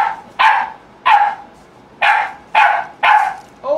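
Dog barking indoors, six sharp, loud, close barks spaced roughly half a second apart, with a short whimpering yip at the very end and no talking.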